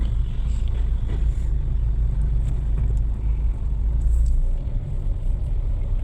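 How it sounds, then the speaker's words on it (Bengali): A large train passes on a railway line in Bangladesh. A loud, steady low rumble stays close and continuous throughout, with no voices. "ওয়াও কত বড় ট্রেন"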